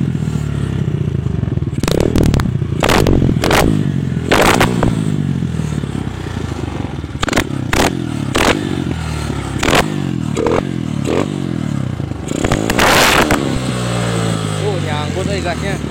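A bored-up Kawasaki KLX 180cc motorcycle engine runs throughout, close and steady, with a series of sharp revs and clattery bursts over a rough idle.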